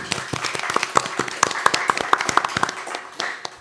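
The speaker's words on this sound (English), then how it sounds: "Please give them a round of applause." A small audience at a food and beverage entrepreneurship session in Madison claps briefly, a loose run of distinct hand claps that fades out within a few seconds.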